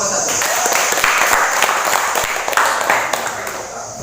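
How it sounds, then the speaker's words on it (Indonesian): Classroom applause for the first student group presenting during a teaching practice session, a dense wash of clapping from many hands, steady and loud for about four seconds, with voices mixed in underneath. "tepuk tangan untuk kelompok 1"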